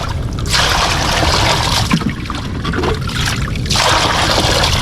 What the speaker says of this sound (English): I'm going to use a bit of water to wash it.